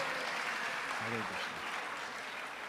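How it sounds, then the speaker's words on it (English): A crowd at a Sunday temple program applauding to welcome guests, steady dense clapping throughout, with a voice speaking briefly over it. "Can we give a big round of applause to welcome them?"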